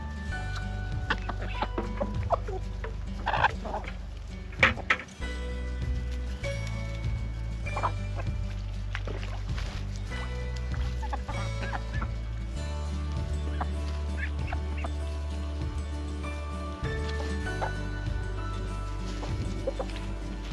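Chickens in a meat flock cluck and murmur steadily at close range, with scattered louder clucks and soft shuffling throughout, over a low background hum.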